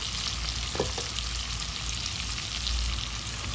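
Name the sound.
onions frying with mutton in pan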